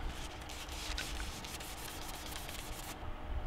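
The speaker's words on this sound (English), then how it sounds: "So you just give it a bit of a buff, and that helps it bring out that metallic shine." A cloth buffs Metalizer lacquer paint on a fiberglass Star-Lord helmet, producing a close, steady rubbing swish in quick, even strokes with no speech over it.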